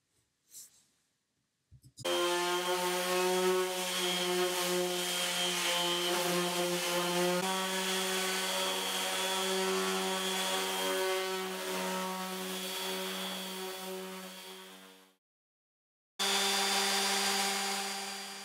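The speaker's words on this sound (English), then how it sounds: "I was very careful when I sanded it with my Surf Prep sander" A Surf Prep sander with 150-grit paper works over thin veneer edge banding on wood furniture, giving a loud, steady whining motor hum for about thirteen seconds, then a brief stop before it starts up again.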